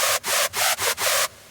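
Four harsh, noisy Sylenth1 synth screech bursts in quick succession, each a bright hissing screech with brief gaps between, ending abruptly into quiet.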